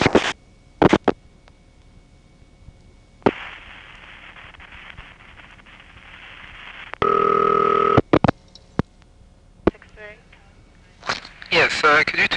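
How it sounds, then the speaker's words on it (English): A ringing signal sent toward the operator over a TSP trunk on a 1977 panel switch in Brooklyn, heard as one loud, steady buzzing burst of about a second, between clicks and short switching noises. "the TSP trunk will supervise ringing the operator"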